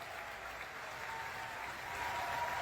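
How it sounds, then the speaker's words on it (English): Sustained applause from the crew of the US aircraft carrier USS Theodore Roosevelt for their departing captain, a dense wash of clapping from a large crowd that stays steady and swells slightly toward the end. "that was the applause the crew of the U.S. aircraft carrier Theodor Roosevelt gave to their captain, Brettt"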